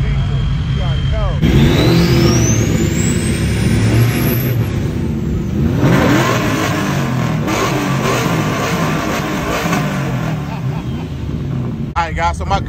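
A Ford F-350 Super Duty pickup at a summer truck meet revs loudly nearby, its engine rising and falling in surges, with people talking over it and a sweeping whine.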